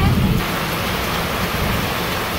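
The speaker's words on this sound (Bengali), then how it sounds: "বৃষ্টির অবস্থা খুব ভয়াবহ" Heavy rain falls on a Bangladeshi village, a loud, dense, continuous hiss with a brief low rumble at the start, lasting a couple of seconds without clear talk.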